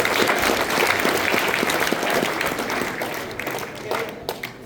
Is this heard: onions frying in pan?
no